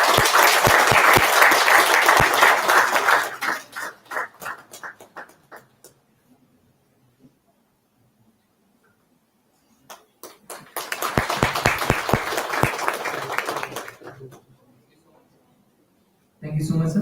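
An audience at an academic summit bursts into loud applause that tapers off into scattered claps, then a second round of clapping rises and fades again, with speech heard at the end.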